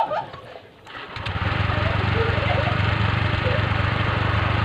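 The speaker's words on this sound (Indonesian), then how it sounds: "dengerin suara mesinnya" Honda Vario 125 FI scooter engine idling steadily with its CVT cover fitted, a close, even low hum that settles in after a brief quieter start, with a voice over it.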